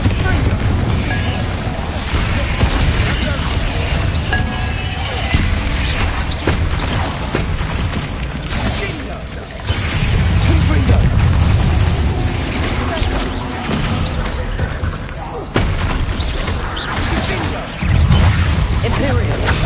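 Confringo explosive spell in Hogwarts Legacy, producing continuous loud blasts and crashes layered over dense game noise, with a voice speaking throughout.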